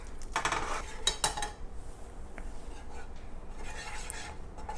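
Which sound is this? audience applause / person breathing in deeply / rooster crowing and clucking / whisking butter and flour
whisking butter and flour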